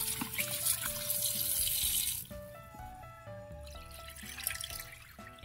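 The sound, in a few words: running tap water washing fish for cooking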